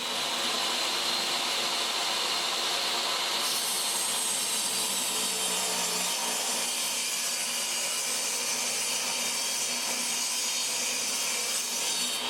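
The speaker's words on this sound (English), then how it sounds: "We'll rip this down into 3/4 inch strips and then laminate it together." Walnut, white oak and purpleheart boards being ripped into 3/4 inch strips on a saw, a steady, loud, close-up whine and rush of cutting that runs continuously with no talk.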